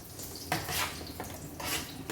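Hare pieces finishing cooking in a frying pan, with a steady hiss of cooking broken by short bursts of stirring and pan noise, close and moderately loud.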